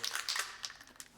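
A Liquitex raw umber spray paint can is shaken, its mixing ball rattling in quick, bright, close bursts with no voice over it.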